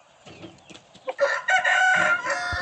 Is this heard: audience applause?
no